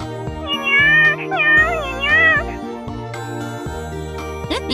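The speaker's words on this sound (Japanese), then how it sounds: "なんか向こうにニャーニャー言ってるやつがいるみたいなんですよ。" Cat meowing loudly and clearly in an anime scene, several drawn-out, wavering meows over background music with chimes.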